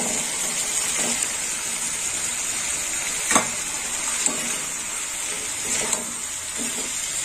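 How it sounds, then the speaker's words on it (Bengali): Fried eggplant pieces go into a hot pan for a spicy Bengali eggplant and bori curry, giving a steady close hiss of sizzling oil with a few soft clacks of stirring. "এবার দিয়ে দেবো বেগুন, ভেজে রাখা বেগুন দিয়ে দিলাম।"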